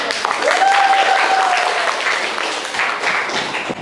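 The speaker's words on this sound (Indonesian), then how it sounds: "Tepuk tangan dulu." Applause in a high school classroom at SMA Negeri 1 Sewon, a group of students clapping steadily and fairly loud, with a brief whistle-like tone near the start.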